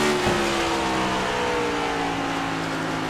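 A cup series race car engine in a video game drones loudly and steadily, its pitch sagging slightly as the driver lifts off the throttle.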